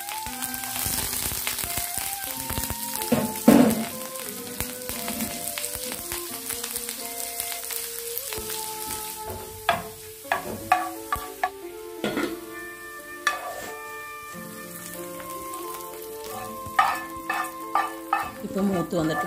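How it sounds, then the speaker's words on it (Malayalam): Mustard seeds, onion and curry leaves sizzle in coconut oil for a Kerala lunch, with scattered sharp pops and stirring clatter over a steady frying hiss, close and fairly loud throughout. "ഒരു ടീസ്പൂൺ വെളിച്ചെണ്ണ ഒഴിച്ചിട്ട് കടുക് പൊട്ടിച്ച് അതിലേക്ക് ഉള്ളിയും കറിവേപ്പിലയും മറ്റന്മുളകും കൂടി ഇട്ടൊന്ന് മൂപ്പിച്ച് ഒഴിച്ച് കൊടുക്കാം"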